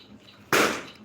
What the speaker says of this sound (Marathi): भाचे कंपनी फटाके फोडत आहेत बाहेर